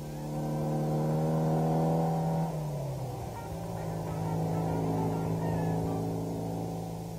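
A steady motorcycle engine hums at moderate volume, its pitch dropping as it eases off, then settling into a smooth, even drone.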